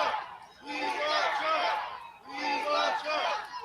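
Crowd cheering and chanting on the street at Donald Trump's arrest, two loud surging waves of many voices rising and falling.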